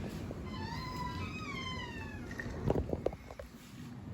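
A pet cat named Edmund meows several times in drawn-out, wavering cries at close range, followed by some brief rustling and handling noises.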